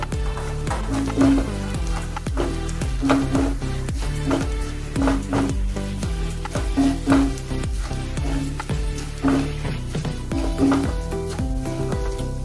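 A spoon stirs green and red chillies, turmeric and coriander powder in hot oil, making rhythmic scraping strokes about once a second over a continuous close sizzle, with faint tonal background sound underneath.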